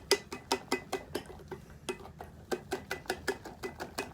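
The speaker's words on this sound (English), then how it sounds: "So here I have the egg and the oil already mixed in here. So just mix it in." A spoon clinks sharply and rhythmically against a bowl while egg and oil are stirred into chocolate brownie batter, about a dozen close, bright taps in quick succession with a short pause midway.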